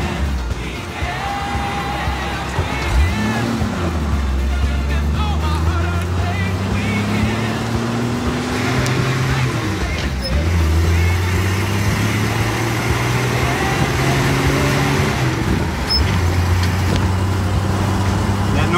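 A 1980 Jeep CJ5 engine revs and drones as it drives along a road, pitch rising and falling through gear changes, loud and close with rattling and wind noise.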